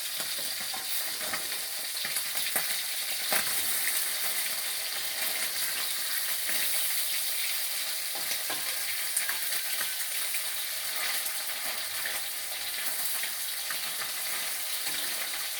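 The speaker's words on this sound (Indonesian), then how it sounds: "Aku sarapan nih langsung goreng dhewe." Fish frying in a pan for breakfast, a dense continuous sizzle with occasional stirring scrapes, close and steady throughout, with no talk.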